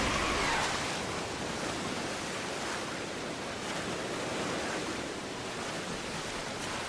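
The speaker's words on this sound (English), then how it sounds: "I feel like I heard some wind." Wind in a Pokémon video game blows as a steady, loud broadband rush that fills the whole stretch without letting up, with no talking heard.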